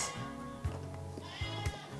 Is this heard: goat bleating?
yes